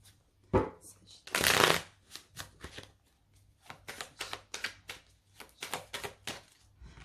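Osho Zen tarot cards being shuffled, a loud riffling burst followed by a rapid series of soft slaps and flicks as the deck is handled, with someone speaking at times.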